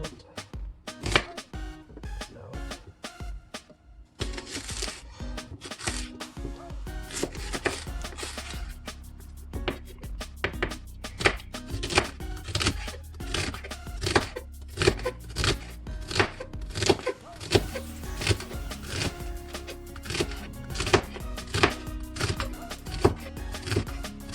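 A knife chops fresh celery on a board in long runs of quick, crisp strokes, close and clear, with a brief pause before a steadier, faster rhythm resumes and carries on with no talk.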